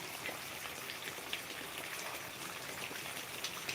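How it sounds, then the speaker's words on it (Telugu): Steady rain falls continuously, a dense even patter of drops with occasional louder splashes nearby, no voices. "వర్షం అయితే మామూలు వర్షం కురుస్తుంది"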